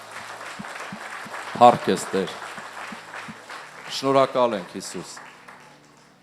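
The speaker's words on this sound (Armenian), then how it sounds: "Եկեք ծափարենք Տիրոջը։" A church congregation at an Easter service claps for the Lord in a loose, rhythmic patter, with voices calling out praise over the clapping.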